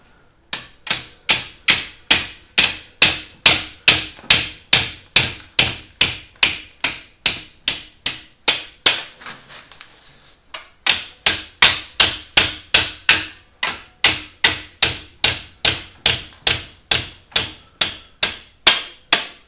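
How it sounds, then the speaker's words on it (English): A hammer strikes the metal clamp tabs on a Ford Ranger rear leaf spring pack in a steady, evenly spaced run of sharp, ringing blows, close and loud, with one short pause midway. "then bend those tabs over, and that'll lock that spring pack all together."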